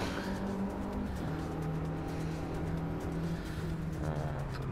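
A Renault race car in the DriveClub VR racing game holds a steady, loud engine drone, its pitch stepping down and back up as the throttle is eased off and reapplied.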